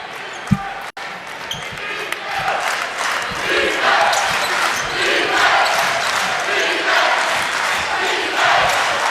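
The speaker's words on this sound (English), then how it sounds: "I've got a ton of crowd noise in my head." A college basketball arena crowd at a Wichita State vs Loyola Chicago game makes a broad, steady roar that swells over several seconds, with a few sharp thuds near the start.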